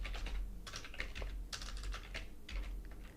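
Typing on a computer keyboard, close and clear, with quick bursts of key clicks in an uneven rhythm over a low steady hum, no voices.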